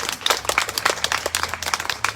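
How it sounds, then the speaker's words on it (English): An audience at a student art exhibition award ceremony applauds students' parents and family members, a dense, lively patter of many hands clapping at once, close and continuous throughout. "how about a round of applause for your parents and family members that are here supporting you?"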